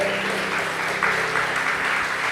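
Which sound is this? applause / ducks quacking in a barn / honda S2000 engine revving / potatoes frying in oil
applause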